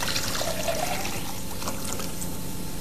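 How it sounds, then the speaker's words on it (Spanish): About a litre of water pours into a laboratory beaker holding granules, a continuous splashing, gurgling rush at close range, steady and fairly loud throughout with no voices. "Introduzcamos los gránulos en este vaso de precipitados y agreguémosle agua,"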